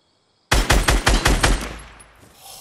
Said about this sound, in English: Oh no, it's the unscoped hunting rifle.